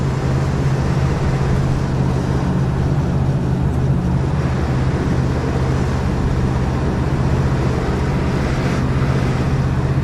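Inside a burgundy 1964 Chevrolet Impala Super Sport hardtop with a 327 V8, a steady low engine drone and road rumble fill the cabin throughout, even and continuous with no talk.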